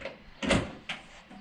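The rear door of a Toyota FJ40 shuts with a single faint thud, and a lighter knock follows shortly after.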